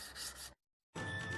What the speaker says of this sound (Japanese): 特砂という表面がザラザラした植物を乾燥させ、道具に巻きつけて使用。